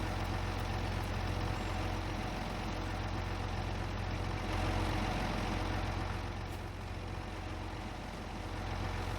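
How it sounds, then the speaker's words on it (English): A farm vehicle engine in Farming Simulator 25 idles in a steady, even, low drone that holds at the same loud level throughout, with no voices. "Probably should turn off the engine so not waste so much fuel, but I do like the sound of it running in the background."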